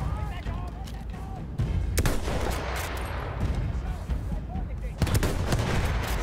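Rapid gunfire in the World War I shooter Battlefield 1, sharp repeated shots crackling over a dense battlefield din, with a louder cluster of reports near the end and voices partly mixed in.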